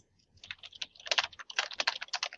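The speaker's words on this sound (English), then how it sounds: "There's that typing again." Rapid typing on a computer keyboard, with a quick uneven patter of crisp key clicks that starts after a short silence and continues steadily and close.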